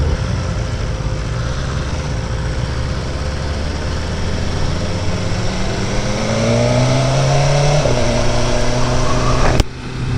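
A BMW motorcycle on a demo ride near Austin, Texas accelerates hard through its quick shifter, engine note climbing in pitch with crisp, seamless upshifts, all under a loud, steady rush of wind.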